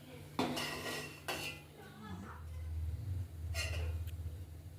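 Boiling cow's milk ladled from a pot into a bowl in a home kitchen, with metal clinks and scrapes of ladle on pot, a low bubbling simmer underneath.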